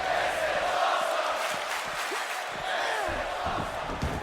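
Wrestling crowd on its feet at a community show, a sustained roar of cheering and shouting that swells loudly and continuously throughout.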